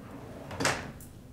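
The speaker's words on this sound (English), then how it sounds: "it also has soft closed drawers" A soft-close drawer on a liquor cabinet holding shot glasses, wine and liquor slides open and eases shut in a Manhattan apartment, one brief muted glide with a light thump, no voices.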